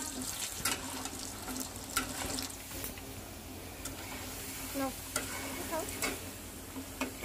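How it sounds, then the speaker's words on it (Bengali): Chopped potatoes fry in oil and caramelized sugar for kacchi biryani, a soft, steady sizzle with intermittent stirring scrapes and light clicks, fairly quiet and close, without speech. "তখন আমরা এটাতে আলু কুচি ছেড়ে দেব এবং সুন্দর করে ভেজে নেব।"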